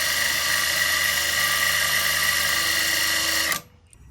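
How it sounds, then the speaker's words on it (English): A drill whirs steadily as it spins an engine to pre-oil the turbos, a high buzzing hum running constant and close for a few seconds before cutting off abruptly into near silence. "Taking a drill to the backside, and we're basically forcing that in there like as if the car was running."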